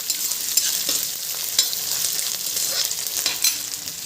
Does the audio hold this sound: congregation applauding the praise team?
no